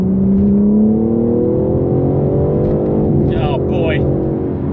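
A BMW M3 Touring engine revs and climbs in pitch as it accelerates after a manual downshift, loud and close, with a brief higher whine partway through.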